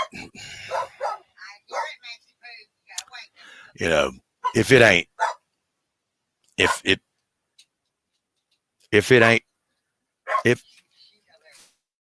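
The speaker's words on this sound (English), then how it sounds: "can y'all hear the dog?" Pet dog Max barks in loud, sharp bursts spaced across the scene, close by, with people talking between and around the barks.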